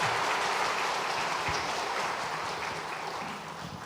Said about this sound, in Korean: 다시 한번 뒤로 돌아서 인사하실 때에 큰 박수로 격려해